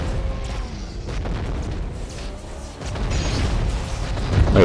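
Deep booming cannon blasts rumble through a busy soundscape in the video game Metal Drift, with mechanical clatter and a louder burst near the end.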